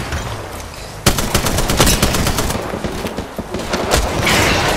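Rapid gunfire in Apex Legends strikes a deployed barrier, sharp close bursts of shots in quick succession over a busy game soundscape, with no talk.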